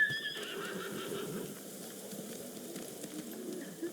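A video game horse in Ghost of Tsushima whinnies briefly, then hooves clip-clop steadily over a low, rushing background.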